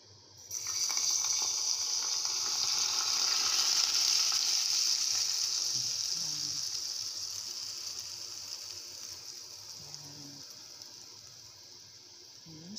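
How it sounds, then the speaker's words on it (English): Very hot oil poured over Chinese-style steamed fish bursts into a loud, sharp sizzle that starts abruptly, then slowly fades and softens over several seconds, with no talking. "Ready, very, very hot now. This oil can be pouring it here."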